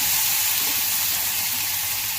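Chopped tomatoes hit hot oil with sautéed onion, ginger and garlic masala for a chicken gravy, giving a close, steady sizzling hiss with no voices.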